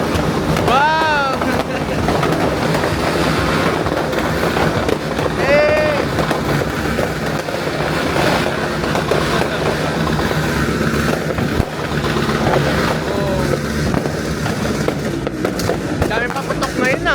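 New Year fireworks and firecrackers pop and crackle loudly and continuously over strong wind noise, while people shout and talk excitedly nearby.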